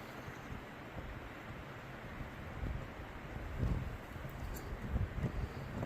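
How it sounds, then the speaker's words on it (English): Wind blows through the woods in a broad, steady rush, with gusts swelling and buffeting the microphone, heard alone with no voices. "You can hear that wind."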